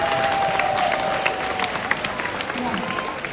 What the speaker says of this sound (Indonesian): Tepuk tangan buat sponsor kita, Triple Diamond Jenis Gan.